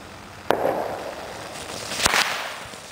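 A tank-style consumer firework goes off outdoors with two sharp cracking bangs about a second and a half apart, each followed by hissing, crackling spray over steady background noise.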